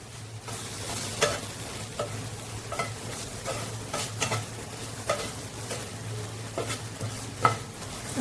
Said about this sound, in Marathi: आता दोन मिनटं हे परतून घेऊया